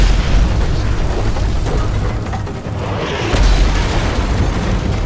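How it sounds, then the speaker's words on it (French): Mortar fire in Call of Duty Modern Warfare 3, loud continuous rumbling booms and blasts with a heavy low end, the barrage swelling again toward the end with no talking over it. "Tire de mortier à droite"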